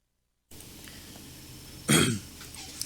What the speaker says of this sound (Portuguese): eu vou fechar o microfone aqui que eu vou ter que tossir